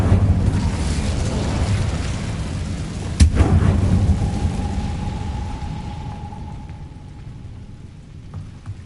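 A fire spell cast in a Harry Potter video game bursts out as one sharp crackling whoosh over steady rumbling game ambience. A thin hissing tone rings on briefly afterward, and no one speaks.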